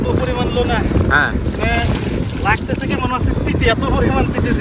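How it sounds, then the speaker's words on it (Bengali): Strong wind buffets the microphone with a constant roar while waves surge on the Arabian Sea shore, with people talking close by throughout. "প্রচন্ড ঢেউ বাতাসও আছে প্রচন্ড বাতাস"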